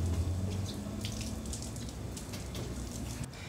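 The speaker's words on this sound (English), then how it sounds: "If it is, you just want to give it a little sprinkle of water." Water is sprinkled over a yacht's teak deck, a steady close spatter and trickle like light rain on the wood. It runs unbroken, with no voices.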